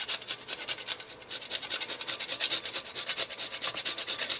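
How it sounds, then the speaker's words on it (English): A nutmeg and mace blend is grated by hand for Christstollen, a continuous rhythmic rasping with quick repeated strokes, close and fairly soft, with no voices. "Needs quite a bit, so I'm going to keep grating."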